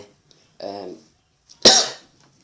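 Two separate coughs from one person, a softer throaty one followed about a second later by a sharper, louder burst, close to the microphone in an otherwise quiet room.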